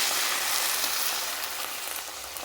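Potatoes and cauliflower stalks fry in a pan in a village kitchen, giving a steady, even hiss of sizzling oil that carries on without a break and eases off slightly toward the end.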